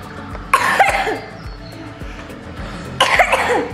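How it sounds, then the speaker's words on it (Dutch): Two sharp, close coughs sound about two and a half seconds apart over a quiet background with faint low rumbling. "In je elleboog hoesten."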